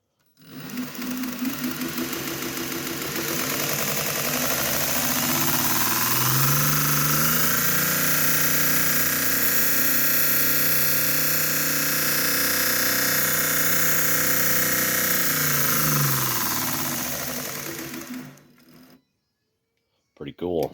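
A variable-speed belt grinder in a home shop spins up from a switch-on, running loud and steady with a whirring motor and belt hum, then winds down and stops near the end.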